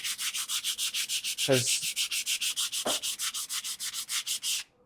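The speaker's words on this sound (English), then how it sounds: "we're not going to go crazy with sanding the inside of the box" Hand-sanding the inside of a small wooden marquetry dice tray box with fine-grit paper, a steady rapid rhythm of close scratchy back-and-forth strokes, about twenty in a row, with a brief spoken word partway through.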